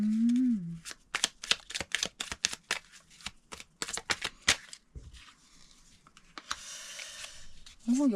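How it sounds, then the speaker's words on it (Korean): Tarot cards are shuffled and drawn up close in a quick run of crisp flicks and riffles, then a softer rustle as a card is pulled out, with a brief voice at the start and end. "참고할 만한 카드를 한번 뽑아보도록 할게요"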